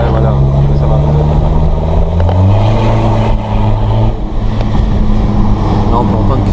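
A BMW tuned for over 200 hp cruises through town, its large-diameter exhaust droning with a loud, steady low resonance that swells and shifts pitch, while a voice talks over it throughout.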